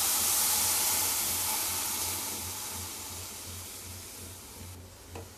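About half a litre of milk poured into a hot pan of roasted semiya and poha for payasam, giving a strong close hiss and sizzle that gradually fades, with no talking.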